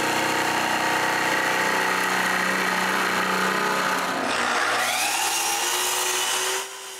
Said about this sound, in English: I finish the cut by roughly cutting it with a jigsaw.